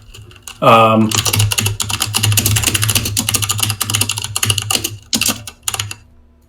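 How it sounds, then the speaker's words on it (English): Rapid, clattering keystrokes on a mechanical computer keyboard run steadily for several seconds, close and loud, with people talking over the typing. "mechanical keyboard, though"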